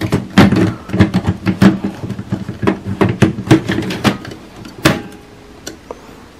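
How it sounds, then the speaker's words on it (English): The toner access door of an HP LaserJet MFP M141w printer is pushed shut, a series of close plastic clicks and knocks ending in one firm snap. "Close the toner access door."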